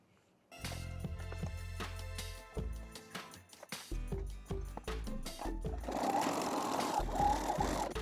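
A sewing machine runs a twin needle through stretch fabric while sewing a tube top, in close, loud bursts of rapid stitching that stop and restart at changing speeds.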